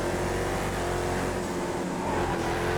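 Race car engine in GTA FiveM revving hard and continuously up close, a dense sustained drone with no voices over it.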